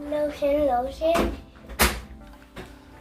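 A closet-style door in a hotel bathroom at a resort and spa thuds and knocks as it is opened or closed, with a couple of sharp close bumps while a person talks over it.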